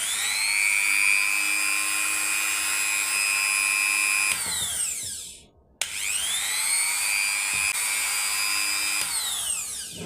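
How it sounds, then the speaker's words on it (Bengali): An electric drill, powered through a homemade multi-plug, whirs steadily at high pitch, winds down to near silence, then starts up again and runs on continuously. "ড্রিল মেশিনটা চালিয়ে দেখাই আপনাদেরকে"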